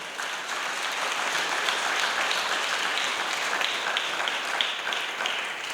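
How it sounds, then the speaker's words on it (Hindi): A church congregation claps loudly and continuously, a thick even roar of many hands that swells slightly and holds for several seconds without voices on top. "आइए खुदा के पाक रूह के लिए जोरदार तालियां बजाएं।"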